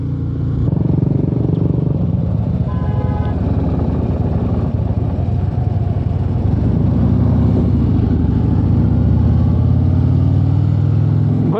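A Harley-Davidson Road Glide Special big motorcycle engine runs close and loud, a steady deep rumble at constant speed, thick with low-end throb and some mechanical clatter, holding level throughout without any clear revving.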